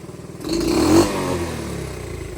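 A dirtbike engine idling with a lumpy, pulsing beat, then a sharp throttle blip that rises and falls over about half a second before settling back to a rough idle, close and loud.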